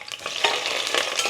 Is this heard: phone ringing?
no